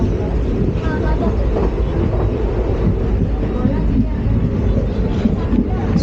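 A crowded passenger train running on rails, a steady dense rumble with rattling and wind noise from inside the carriage, loud and continuous, with people talking over it.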